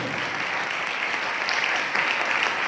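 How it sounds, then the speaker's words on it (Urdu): Loud, dense applause from a church congregation fills the whole stretch, steady and close with faint voices mixed in. "اپنی خوشی کا 1000 زوردار تالیاں"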